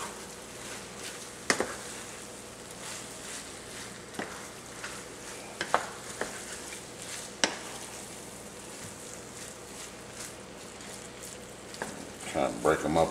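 Cajun shrimp and rice crackle softly in a skillet, a low steady sizzle broken by occasional clicks and knocks as the mixture is stirred and spread.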